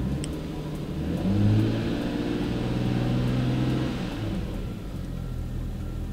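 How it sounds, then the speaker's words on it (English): A car engine revs up under the throttle, surging to a loud, close roar, holding there, then easing back toward idle, with no one speaking. "Gonna give it some gas."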